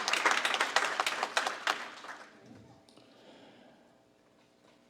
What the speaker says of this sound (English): So let's give a big round of applause to all the families who supported our journeys.